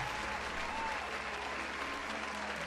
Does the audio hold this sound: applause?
yes